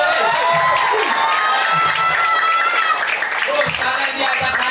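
Children at a one-day English and character camp clap and cheer together in a lively crowd, with shouts and a loud adult voice speaking over the steady applause.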